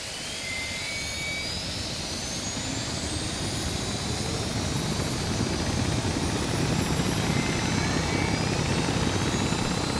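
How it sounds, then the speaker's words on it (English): Helicopter rotors and turbine whine from a military simulation video game, a steady loud drone with rising whistling tones that builds slightly toward the end, heard alone without talk. "our helicopters sound good."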